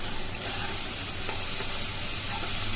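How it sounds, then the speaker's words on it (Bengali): Masala with chili powder and coriander powder frying in a pan, an even, continuous sizzle close and fairly loud, with faint stirring scrapes. "এই গুঁড়ো মশলাগুলো দিয়ে বেশ কিছুক্ষণ মশলাটাকে আবারও ভেজে নেব।"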